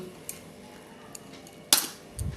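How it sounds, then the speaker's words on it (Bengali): An egg cracked into a bowl while making a puffed-rice cutlet mixture, a few faint taps, then one sharp crack followed by a soft splatter and a small clink of the bowl, quiet kitchen with no talking. "এই ডিমটাকে ফাটিয়ে আমি দিয়ে দেব"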